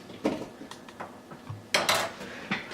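Sliced apples, four cut with a slicer, dropping into a cooking pot in a kitchen: a handful of light clattering knocks and thuds, with a louder cluster of clunks near the end, no talking.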